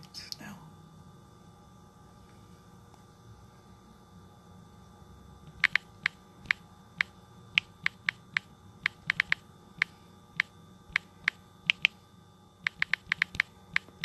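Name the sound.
typing on a computer keyboard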